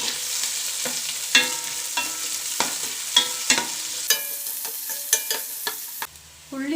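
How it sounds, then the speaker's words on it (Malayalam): Onions and green chillies fry in a pan for Arabian-style chicken kabsa, with a close, steady sizzle punctuated by regular sharp clinks and scrapes of a spoon stirring, and no talking. "ഉള്ളി നല്ലതുപോലെ ഒന്ന് ബ്രൗൺ കളർ ആവണം."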